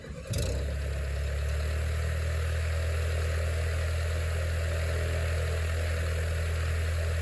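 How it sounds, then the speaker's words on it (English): A Jabiru light-aircraft engine on a Quasar Lite ultralight cranks and catches almost instantly, then settles into a steady, loud, low-pitched idle with a constant vibrating drone. "The Jabiru starts right away and has a nice low sound."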